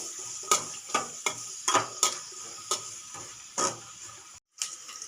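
Onion vadas frying in hot oil, a steady close sizzle with a run of sharp clicks and taps as they are stirred and turned, one brief silent gap near the end.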